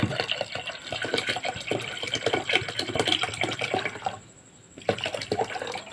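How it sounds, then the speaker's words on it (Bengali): Water pours steadily into a pot of lentils being cooked as dal, a continuous splashing gush that stops briefly near the end and then resumes. "পরিমাণ মতন জল দিয়ে নিয়েছি।"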